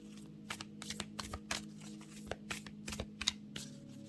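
Halloween-themed oracle cards are shuffled by hand, giving a run of quick, soft riffling bursts at uneven intervals over a steady low background hum, with no talking.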